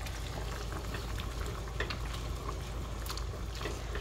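Kangkong (water spinach) simmering in a pot of boiling broth, with a steady close bubbling and gurgling that carries on without a break and no talking over it.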